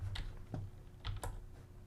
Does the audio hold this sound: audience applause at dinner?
no